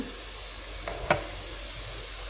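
Onions frying in oil with garlic and salt make a soft, steady sizzle and hiss, with two brief clinks or stirring taps near the middle, no voices.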